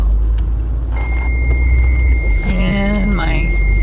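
A small car gives out a steady high electronic warning beep that runs on without a break over a loud, rumbling engine and road noise. Near the end a brief squeal or voice-like sound rises.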